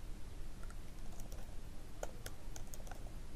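Computer keyboard typing examinee information into an online scoring form: quick, light key clicks in an uneven rhythm, close and faint over a low background hum.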